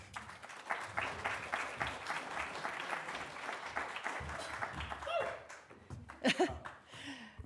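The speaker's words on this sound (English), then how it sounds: "I have my team cheering me on here." Audience applause fills a lecture hall as a guest photographer is welcomed, with moderate clapping and scattered cheers. The clapping fades out after about five seconds, and a nearby voice and some rustling follow.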